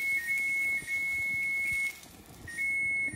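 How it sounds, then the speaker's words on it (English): Repeated electronic beeping in short bursts with brief pauses, like a kitchen timer going off, fairly clear over a quiet background. "All right, that's the timer."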